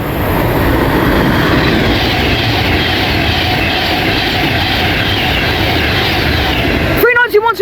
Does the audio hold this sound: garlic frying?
no